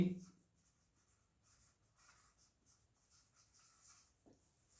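Handwriting of an equation during a Class 9 maths lesson gives faint, soft pen strokes and scratches in a quiet room, after a brief low thump at the start.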